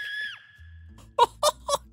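A gnome in the game Sir Whoopass lets out a short, high squealing scream that trails downward, followed by a few quick, sharp yelps at close range.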